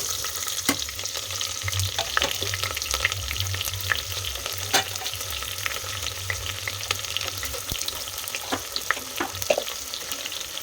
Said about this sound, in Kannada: ಕಸ್ತೂರಿ ಮೇಥಿ ಹಾಕೊಳ್ಳಿ ಅದನ್ನು ಫ್ರೈ ಮಾಡ್ಕೊಳ್ಳಿ ಒಂದು ಸ್ವಲ್ಪ ನೆಕ್ಸ್ಟ್ ಇದಕ್ಕೆ ಈರುಳ್ಳಿ ಹಾಕೊಂಡು ಫ್ರೈ ಮಾಡ್ಕೊಳ್ಳಿ